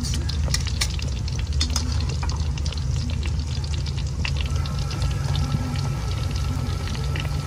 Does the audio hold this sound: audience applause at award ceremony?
no